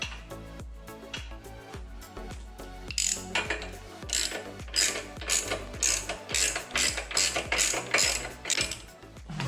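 A ratchet tightens a bolt on a Mega Moto 212 minibike, with rapid, steady, close clicking strokes running through the whole clip.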